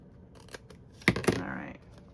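Scissors snipping small scraps of paper from book pages at a crafting desk: two sharp close cuts about a fifth of a second apart, followed by a short rustle, with no talk.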